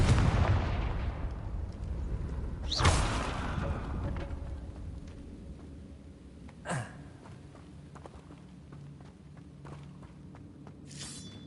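A Confringo spell blast in Hogwarts Legacy, with two sharp bursts about four seconds apart, the first stronger, over a busy game soundscape with footstep-like taps and brief crackles.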